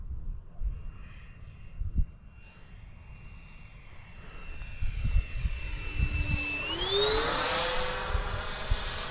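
A Freewing F-4 Phantom RC jet flies with its flaps down, its ducted-fan whine rising and sweeping in pitch as it passes close by, over a steady breezy outdoor background.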